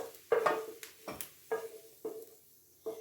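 Repeated scraping as fried onions are stirred into a pan, five or six short strokes at a steady pace, close and fairly quiet, with a soft sizzle beneath.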